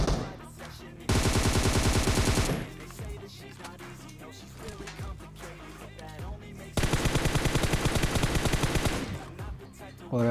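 M4 rifle fire in PUBG Mobile, two long loud automatic bursts of rapid shots separated by quieter game sounds and faint activity, the second burst running several seconds.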